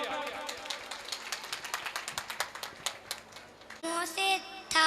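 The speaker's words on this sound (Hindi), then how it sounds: "इसके लिए जोरदार तालियां।" Crowd applause at a closing ceremony of a moral education camp after a dance performance, a steady rapid patter of many hands clapping at moderate distance, ending as music with a held tone begins.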